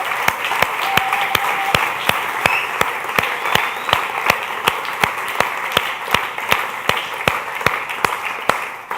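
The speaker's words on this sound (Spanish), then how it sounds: "Dele otro aplauso." A church congregation claps again at a Feast of Tabernacles service, many hands forming a dense, sustained applause with crisp rhythmic claps beating steadily through it.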